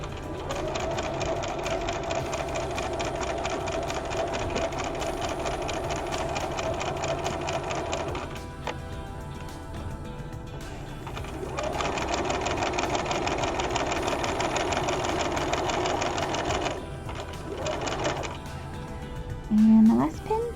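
A sewing machine stitches a pocket bag seam in long, steady runs of rapid close needle chatter, stopping briefly and starting again, with a short pause near the end.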